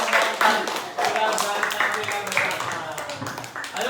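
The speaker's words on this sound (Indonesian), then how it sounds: "Yuk, beri tepuk tangan dulu dong." A classroom of elementary school children claps together during a teaching session, a dense patter of hands mixed with overlapping young voices and chatter throughout.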